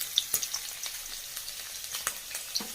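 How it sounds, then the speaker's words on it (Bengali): Garlic fries in mustard oil in a wok for a Bengali dried-fish and bottle-gourd-leaf mash, giving a soft, steady sizzle dotted with sharp crackles and pops, close and quiet, with no voices. "প্রথমে রসুনটা ভেজে নেব। রসুনটা দিয়ে দিলাম।"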